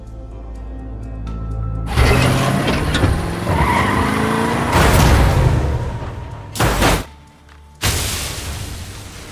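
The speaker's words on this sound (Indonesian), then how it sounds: "ada sebuah mobil melaju kencang dari arah depan yang langsung menabraknya" In a movie scene a car speeds in with squealing tires and revving engine, then slams into another car in heavy, loud crashing impacts, followed by sharp bursts and a brief pause before more crunching noise.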